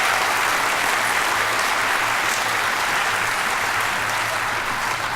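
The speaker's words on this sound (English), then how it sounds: "One more round of applause." Steady, dense audience applause fills the whole stretch at an even level, a large crowd clapping after a stage performance celebrating Black History.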